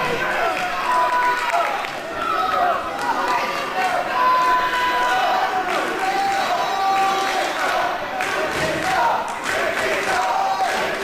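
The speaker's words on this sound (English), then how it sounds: "Crowd getting vocal for Lufisto." Wrestling crowd at a women's tournament final gets loud in support of Lufisto, a steady roar of voices and shouts sustained throughout with swelling peaks, close and dense.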